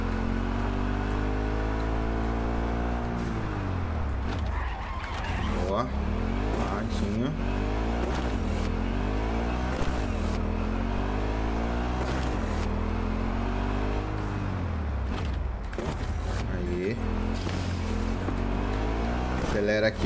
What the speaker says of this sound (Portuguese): Que eu tô acelerando aqui na minha moto